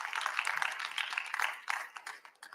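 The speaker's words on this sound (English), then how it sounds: "Round of applause for yourselves" Faint, distant clapping from attendees at the first public hearing of the New York Reparations Commission, a soft, even patter that thins out toward the end.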